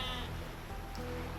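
A sheep in the video game Age of Empires II lets out a short bleat, clear and close over faint game background ambience, no speech.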